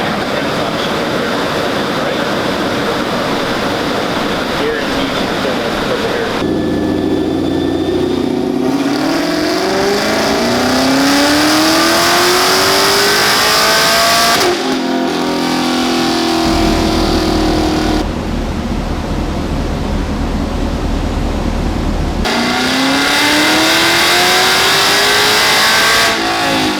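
A tuned Camaro running E85 on a dyno, fitted with headers, exhaust, cold air intake and a new stall converter, revs loudly and up close in repeated rising sweeps that drop back between pulls, with no talk.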